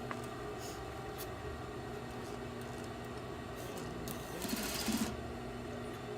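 Sewing machine stitching the front placket of a shirt with a half-inch seam allowance, a soft steady mechanical whir running throughout, with a short louder burst of stitching near the end.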